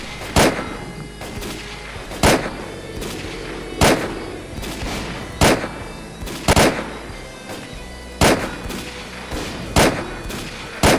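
Sniper rifle fire in a video game, loud sharp shots spaced about every one to two seconds, each with a short echoing tail, alone without talk.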